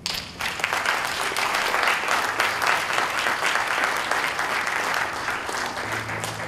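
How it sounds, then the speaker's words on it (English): Audience at a 2021 graduation ceremony breaks into steady, full applause, a dense wash of many hands clapping for several seconds, with a brief voice near the start and end. "Please give them a big round of applause for their loving support."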